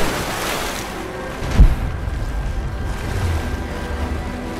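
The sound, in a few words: falling into water in video game Rise of the Tomb Raider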